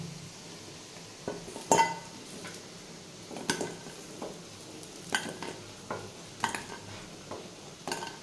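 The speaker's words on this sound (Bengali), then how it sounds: "এবার এপিট ওপিট করে এই বড়াগুলো ভালো করে লাল করে ভেজে নিতে হবে।" Faint oil sizzle runs underneath as red lentil fritters fry, broken by intermittent clinks and scrapes of a utensil against the pan.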